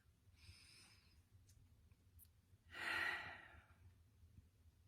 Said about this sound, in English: let's all take a deep breath